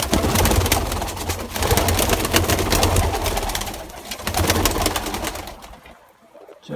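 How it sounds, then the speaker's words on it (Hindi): Pigeons in a loft coo and flutter in a dense, close, continuous chorus that fades out at the very end. "अभी हम कबूतरों को बाहर निकाल देंगे ताकि वो फिर बारी बारी आके नहाते रहेंगे"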